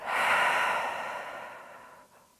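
One long, deep exhale during yoga practice, close and soft, swelling at the start and then slowly fading out over a couple of seconds.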